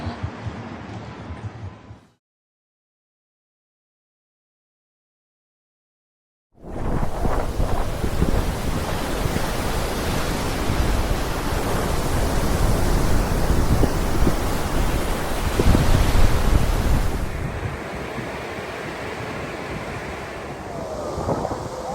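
Surf breaks on a beach at high tide, a broad steady roar mixed with heavy wind buffeting the microphone, loud and continuous after a brief silent gap near the start.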